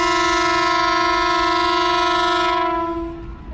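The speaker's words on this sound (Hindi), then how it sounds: "दोनों ही हॉर्न आपने सुन लिए" A loud, sustained departure horn from the Kohat Express in Pakistan blares steadily for a few seconds, then fades out.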